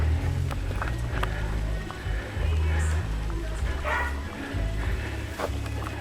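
A pet dog named Dookie barks a few times near a family house with trees and plants on a rural hike, the barks sounding out over steady background noise and rumble.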